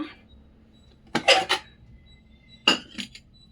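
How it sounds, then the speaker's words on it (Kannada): Utensils clink and clatter while dishes are washed, with two separate short bursts of metallic knocking and scraping, close by, and near silence in between. "ಪಾತ್ರೆ ಕೂಡ ತೊಳೆದು ಆಚೆ ಹಾಕೋಣ"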